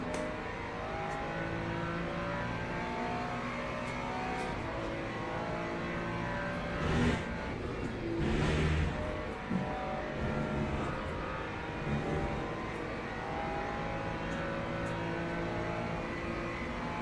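Race cars at Spa in Le Mans Ultimate, including a McLaren close behind, with engines droning steadily at high revs and surging briefly as cars run close together in traffic.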